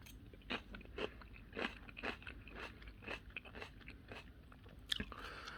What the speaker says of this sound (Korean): 이 김치는 한번 제가 먹어보고 말씀드릴게요